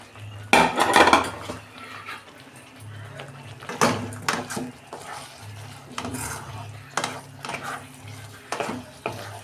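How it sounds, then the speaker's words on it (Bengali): Boiled soybeans go into a pan and get stirred, bringing repeated loud metal scrapes and clanks of a utensil against the pan over a soft sizzle, alone with no voices. "এবার সয়াবিনটা সিদ্ধটা আমি দিয়ে দিচ্ছি।"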